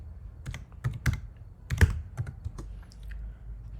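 Soft, irregular taps of a code being entered on a mobile phone, a quick series of light clicks with short pauses between them, close and quiet with no voices.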